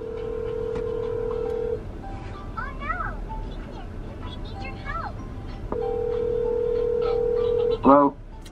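A mobile phone call rings out: a steady ringback tone sounds, pauses, and sounds again, with faint background noises between, before a short burst of tones at the end.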